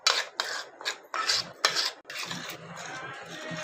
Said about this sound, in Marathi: आता आपण हे मिश्रण असं सगळं व्यवस्थित एकत्र करून घेऊ.